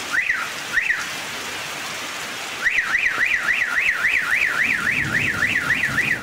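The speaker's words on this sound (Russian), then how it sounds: "От дождя и грома срабатывали сигнализации машин." Car alarms set off by a thunderstorm wail in a rapid up-and-down siren pattern, pausing briefly before resuming, over the steady hiss of heavy rain.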